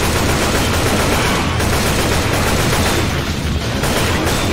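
Rapid, loud bursts of gunfire in the zombie shooter Left 4 Dead 2, dense overlapping shots filling the whole stretch with barely a pause.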